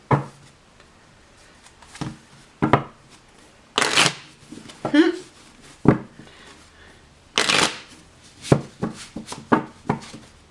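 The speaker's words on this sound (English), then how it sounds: "Let's breathe some air into the tarot cards." Tarot cards being shuffled by hand in bursts of crisp riffling and flicking, a dozen or so short rustling strokes separated by brief pauses, close and fairly loud, with no talking.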